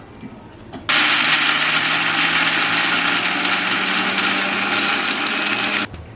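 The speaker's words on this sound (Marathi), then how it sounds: "बरं आता हे बारीक करून घेऊया चटणी थोडंसं पाणी घालते" Kitchen mixer grinder blending chutney with a little water, switching on abruptly after a quiet start and running as a loud steady whirring roar for about five seconds before cutting off.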